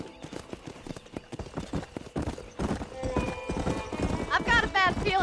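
Horse hooves pound in a fast galloping clip-clop in Red Dead Redemption, loud and rhythmic, with a brief whinny near the end and a voice calling out over the hoofbeats.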